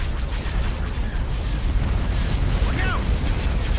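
Cruiser cannon fire and explosions in the space strategy game Star Wars: Empire at War, a dense, continuous rumble of booms and blasts heard loud and close, with a voice talking over the battle.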